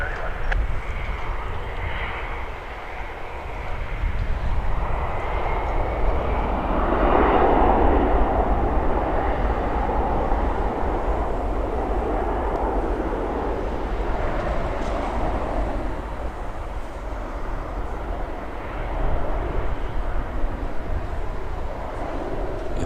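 A plane departs Toronto Pearson Airport at night with a steady, loud jet roar that swells and lingers for the whole stretch, and a voice is faintly present underneath.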